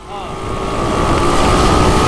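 A Honda MTX 125R two-stroke motorcycle engine, ridden off-road, holds a loud, steady, close buzzing drone that swells slightly over about two seconds.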